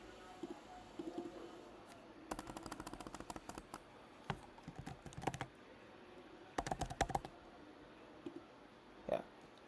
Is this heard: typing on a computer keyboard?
yes